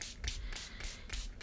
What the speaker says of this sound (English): I have a little spray bottle with some coffee in it. And what I'm going to do is I'm just going to spray.